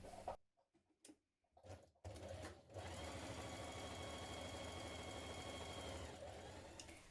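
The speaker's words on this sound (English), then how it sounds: "Now take your back piece and stitch the back side edges between your notches here and here." A sewing machine stitches the back side edges of a blouse, starting after a few faint handling clicks and then running as a steady, close mechanical whir with a rapid needle rhythm until the end.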